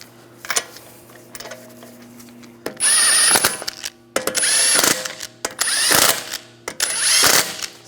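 Power tool running in short bursts while lug bolts are snugged onto the front wheel of a 2009-2013 BMW 328i xDrive, several loud ratcheting whirs separated by brief pauses, close up and with no talking.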